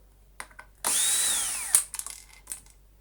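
Power screwdriver undoing screws on a Dyson DC40 vacuum cleaner: a close, loud whirring burst lasting about a second, with small clicks and handling knocks before and after.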